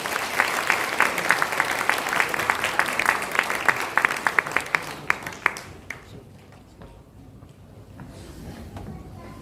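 A church congregation at an elder and deacon ordination service claps steadily and fairly loudly for about five seconds, then the applause thins and fades to quiet room tone.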